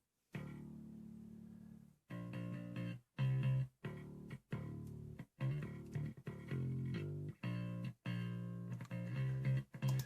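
Dry, thin bass guitar recorded as a DI signal alone, played in short plucked phrases with brief gaps between notes, direct and close with no amp coloring.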